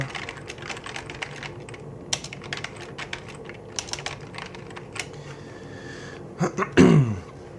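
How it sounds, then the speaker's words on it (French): Fingers type on a computer keyboard in irregular bursts of close, crisp key clicks, ending with a brief louder noise that could be a sneeze or throat clearing. "Ici je vais aller taper mon contenu, donc je tape n'importe quoi."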